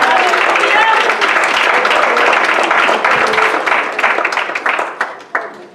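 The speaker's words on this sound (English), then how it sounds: "let's clap our hands and encourage him" A church congregation claps hands together in dense, sustained applause at a revival service, loud and steady before thinning out toward the end.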